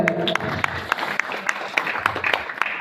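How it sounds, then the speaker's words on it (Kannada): Audience clapping at a farmers' association district convention in a village, a steady round of applause from a moderate crowd with a voice briefly heard at the start. "ಜೋರಾದ ಚಪ್ಪಾಳೆ"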